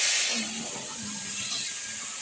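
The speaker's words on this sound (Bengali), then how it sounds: "সবজিটা এর মধ্যে ঢেলে দেবো এক্ষুনি, দেখো" Chopped bottle gourd is tipped into a hot pan and sizzles loudly, a sharp hiss at the start settling into a steady, close frying crackle.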